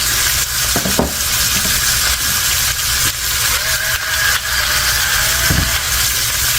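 Tomatoes frying in a skillet for a Southern breakfast frittata, salted and peppered: a loud, continuous close sizzle with occasional clinks and scrapes of stirring, no voices.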